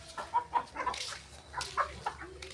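Several native chickens cluck and squawk in short, irregular bursts close by in an old coop, with a few sharper calls rising above the rest.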